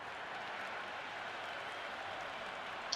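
A crowd at a T20 cricket match between India and England cheers and applauds in a steady, dense roar of claps and voices from a distant stadium.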